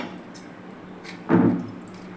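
A crisp fried chegodi snack snaps once, a short sharp crack near the middle against quiet room background.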